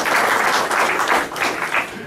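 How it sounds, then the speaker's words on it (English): Audience applause at a town council reorganization meeting in Fanwood, greeting council members; a dense, steady wash of clapping from a crowded room fills the full stretch and fades only slightly toward the end. "Please give them a round of applause."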